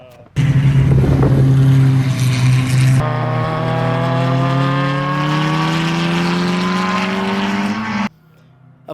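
A Porsche 996-generation 911 at the Putnam Park Road Course, its engine roaring close and loud, then changing pitch as it runs through the gears and pulls away, before cutting off abruptly.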